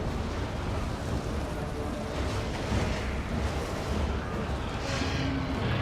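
Artillery in Total War: Warhammer 2 pounds a city wall during a Tomb Kings siege: a dense, continuous barrage of deep booms and rumbling blasts running unbroken throughout.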